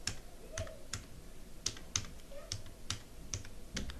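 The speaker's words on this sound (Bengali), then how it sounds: "এখন ডেসক্রিপশনের ঘরে আমি একটি ডেসক্রিপশন লিখে দিচ্ছি" Someone typing a description on a computer keyboard, close and quiet, a steady stream of light, uneven key clicks with no talking.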